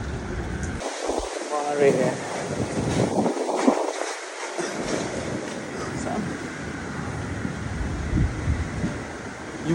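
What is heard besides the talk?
strong typhoon Ragasa wind in Macau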